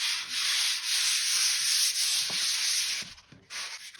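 Hand sanding a plaster wall with 180 grit sandpaper: steady, close, continuous hissing rasp of paper on plaster, with brief pauses and strokes near the end.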